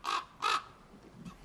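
A crow caws twice in quick succession, harsh and fairly close, followed by faint distant calls over quiet outdoor ambience.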